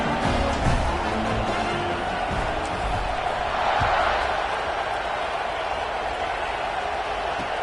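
A college football stadium crowd roars steadily during a kickoff, a dense, sustained wash of cheering voices that swells slightly midway and never drops away.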